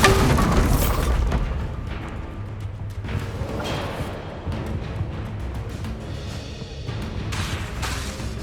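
A Bombardo explosion spell in the video game Hogwarts Legacy on PS5, a heavy boom that opens loud and rolls off into a long, dense rumble of game sound, with no talk.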